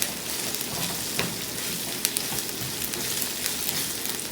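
Chorizo and eggs sizzle steadily in a pan, a dense, even crackling hiss with occasional small pops, close and continuous with no talking.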